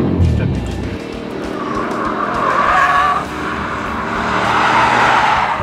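An Audi S8 Plus with 605 hp and quattro drive brakes hard on a race track, tires squealing loudly and continuously under heavy deceleration while the engine drones beneath.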